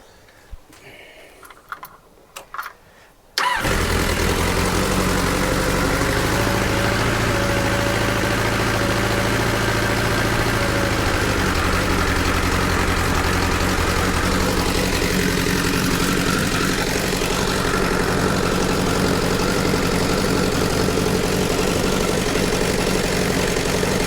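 A Kawasaki GTR1000 motorcycle engine idling steadily while warming up, a loud continuous close rumble that starts abruptly after a few seconds of faint handling noises.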